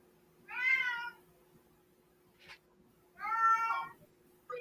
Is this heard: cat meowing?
yes